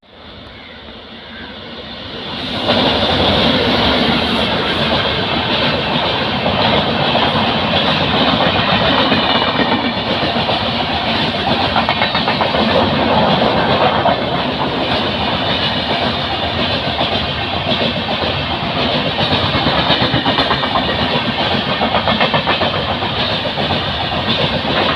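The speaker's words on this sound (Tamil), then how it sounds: "பிளாட்ஃபார்ம் 2ல் வந்து எர்ணாகுளம் ஷொர்ணூர் மெமு வரப்போகுது" An Ernakulam-Shoranur MEMU train pulls into Karukutty railway station, a loud, steady rumble of wheels and carriages that swells in after a quiet couple of seconds and holds up close for the rest of the clip.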